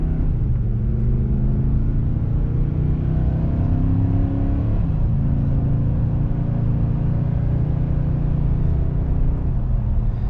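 A 2021 pickup truck, either a Nissan Titan gas V8 or a Ford F-150 hybrid V6, accelerates from a dead stop while towing a trailer, its steady, heavy engine drone climbing through gear shifts in a close cabin recording.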